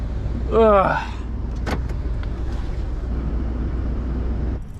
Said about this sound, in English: Alrighty, the truck has now been moved. So we are backing in.